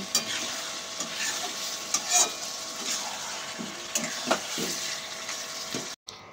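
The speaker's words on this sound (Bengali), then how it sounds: "এবারে একটু নেড়ে চেড়ে নিতে হবে। নেড়ে চেড়ে এবার একটু কষিয়ে নেব।" Mutton frying in a pan gives off a continuous sizzle while a utensil scrapes and stirs in irregular strokes, close and fairly loud, with no speech.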